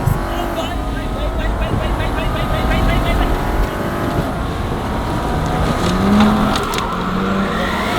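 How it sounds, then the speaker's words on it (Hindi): A new car drifts on a dirt surface, its engine revving hard and droning with a rough, rising and falling tone, close and loud throughout, with a brief louder surge late on. "ऐसे कौन ड्रिफ्ट करता है?"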